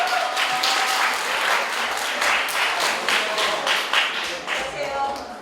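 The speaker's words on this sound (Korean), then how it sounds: "박수." An audience at a high school admissions briefing claps steadily for several seconds, a dense, even burst of hand clapping filling the room.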